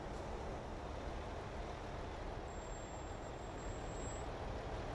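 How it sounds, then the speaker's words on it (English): A Mack R-Series truck in American Truck Simulator gives off a faint, thin, high-pitched brake squeal for about two seconds, set over a steady drone of engine and road noise. "Those were squeaky brakes."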